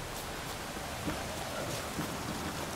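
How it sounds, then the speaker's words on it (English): Rain falls in The Witcher 3: Wild Hunt, a steady, even hiss of downpour with faint soft patters, continuous and unbroken with no voices over it. "Looks like rain. What else is new? It's always raining."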